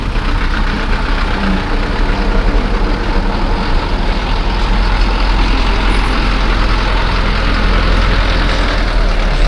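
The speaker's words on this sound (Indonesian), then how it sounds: "4 truk." Several heavy trucks idle together at a rice food-aid distribution in Purbalingga, a steady low diesel rumble that fills the whole stretch without pause and with no talk over it.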